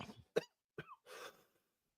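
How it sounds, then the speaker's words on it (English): Three or four short, dry coughs, close and fairly quiet, separated by brief silences and ending in a breathy rasp. "Coughing."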